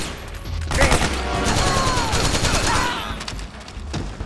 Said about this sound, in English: I'm shooting you guys in the legs.